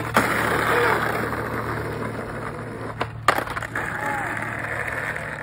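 Skateboard hitting a rail outdoors: a steady rolling rumble over a low background hum, then a sharp clattering impact as a wheel comes off, followed by scattered rattles.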